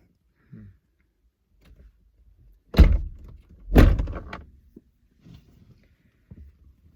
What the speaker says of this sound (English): we have a new experiment to open the doors during the integration minutes to let the car cool down